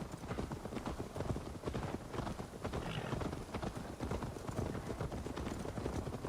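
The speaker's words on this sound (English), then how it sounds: "I do enjoy listening to the horses galloping and stuff" Many hooves gallop in a dense, continuous drumming, several video game horses running together in Assassin's Creed Valhalla, steady and moderately loud with no talking.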